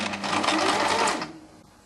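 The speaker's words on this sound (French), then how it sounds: "On fait la piqûre nervure au bord, très doucement." A sewing machine stitches a pintuck along a silk satin hem in a quick, steady whir lasting about a second before it slows and stops, close and clear with no voices.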